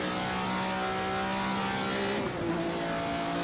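A 1962 Ferrari 250 GTO race car engine in the Assetto Corsa video game drones at a high, steady pitch, dipping briefly as a gear change drops the revs before it climbs again.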